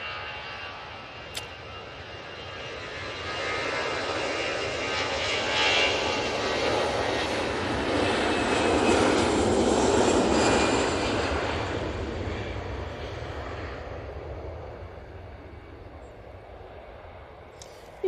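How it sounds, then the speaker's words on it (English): An EasyJet airliner on its takeoff roll at Manchester Airport, a broad jet-engine roar that swells to a peak midway and then slowly fades over about eighteen seconds, with no talk. "Easyjet on the roll."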